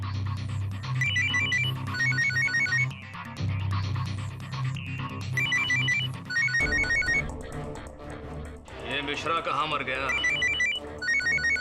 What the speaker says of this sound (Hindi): मेरे को लगता है कि फोन फ्रीजर में बज रहे हैं।